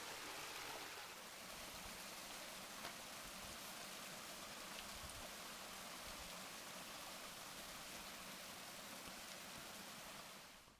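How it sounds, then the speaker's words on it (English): A small mountain stream running at a trail crossing in the Great Smoky Mountains after wet weather, a steady broadband rushing of water that holds constant throughout, with no talk. "another water source here, and kind of like a little river crossing, stream crossing."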